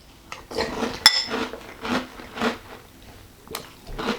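Crunchy Magic Spoon keto cereal is bitten and chewed up close, with a series of crisp crunches in irregular rhythm and a light clink of a spoon or bowl, no talking.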